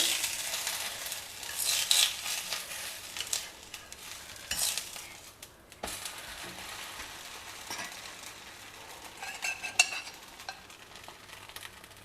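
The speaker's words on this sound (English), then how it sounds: "Pour a little bit of oil all around and allow it to cook on a low to medium flame" A dosa fries in oil on a pan over a low to medium flame with a continuous soft sizzle and occasional light scraping, close and steady throughout.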